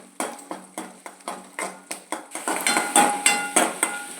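Garlic cloves being roasted golden in a pan, with a regular run of sharp metallic clinks and scrapes from a spoon against the pan, about three per second, close and clear with a faint sizzle underneath.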